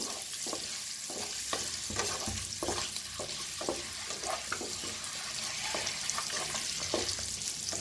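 Eggs fry in a pan seasoned with red chili powder and salt for an egg curry, giving a steady close sizzle broken by irregular spatula taps and scrapes throughout.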